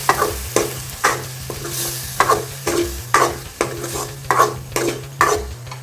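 Tomato paste sizzles in a pan for a quick gravy while a spoon stirs it in a steady rhythm, each stroke making a close scraping swish over a continuous low fry.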